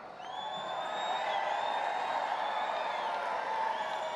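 Large crowd at a political rally in Asheville cheering and whooping loudly and continuously, with shrill whistles rising above a dense roar that swells and holds steady throughout.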